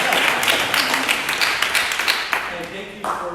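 A seated audience at a real estate investment talk gives a brief, dense round of applause that fades, with a voice speaking over the clapping.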